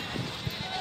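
A goat bleats at a goat market in Patna, two short cries sounding close and fairly loud over a busy market background murmur, with no clear talk.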